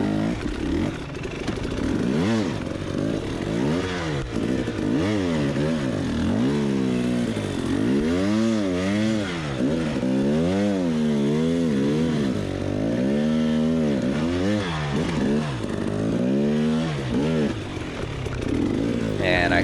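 Dirt bike motorcycle struggling up a super steep hill at the 2021 King of the Motos prologue, engine revving and bogging in repeated wavering surges, loud and close, with some clatter.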